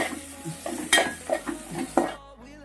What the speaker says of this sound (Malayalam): ഇഞ്ചി വെളുത്തുള്ളിയും കൂടെ പേസ്റ്റ് ആക്കി ഇതിടണം. പിന്നെ ഇതിന്റെ കൂടെ പച്ചമുളക് നന്നായിട്ട് ഇളക്കുക.